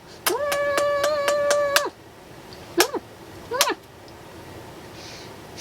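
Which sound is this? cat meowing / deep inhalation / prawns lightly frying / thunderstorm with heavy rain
cat meowing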